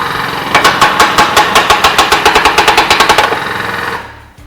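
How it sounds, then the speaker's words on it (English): A Vigor control arm bushing press tool forces a tight bearing out of a Ford, Volvo or Mazda control arm, giving a loud, rapid series of sharp ratcheting clicks for about three seconds before it stops abruptly. "The noise level tells us that it's actually really tight, but the tool is also indeed very strong."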